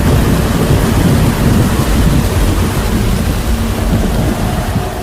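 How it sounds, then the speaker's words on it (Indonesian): A heavy downpour roars steadily at dusk, dense and loud throughout, with low rumbling thunder blended into the continuous rain noise. "Menjelang maghrib, hujan tiba-tiba turun dengan deras."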